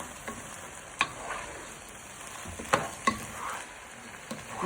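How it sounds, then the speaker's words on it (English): Prawn and chorizo risotto stirred in a pan: soft, faint sizzling with a few sharp clinks and scrapes of the spoon against the pan, close up, no talking. "And you want to give it a good stir."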